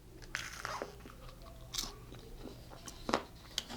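Someone takes quiet crunchy bites into a keto bread peanut butter and jelly sandwich, with a few soft crisp bites close to the microphone and chewing between them.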